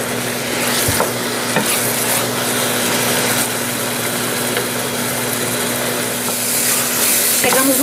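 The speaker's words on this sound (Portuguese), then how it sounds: "O abacaxi vai começar a fazer barulho como se estivesse picando." Pineapple filling, cooked until its syrup dries, sizzles and crackles in a pan under steady stirring, with scraping strokes and faint pops over a low constant hum close by.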